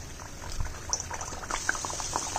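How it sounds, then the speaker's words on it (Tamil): Thin flattened patties of rava and curry leaves dropped into hot oil to deep fry as an evening snack, bubbling softly with scattered small pops and crackles, fairly quiet and without speech. "இப்போ எண்ணெய் நல்லா காஞ்சிருச்சு இதில் நம்ம போட்டுடலாம்"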